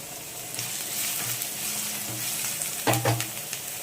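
Onions and cabbage sizzle steadily in a pan for mushroom fried rice, a constant frying hiss with a few sharper stirring scrapes near the end; no one speaks.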